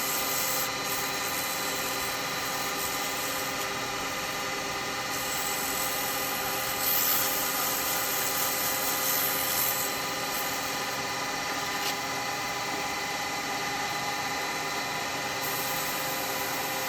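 Sandpaper rubbing against a spinning woodturning piece on a lathe, a steady continuous hiss with faint motor hum beneath, close and even throughout with no speech.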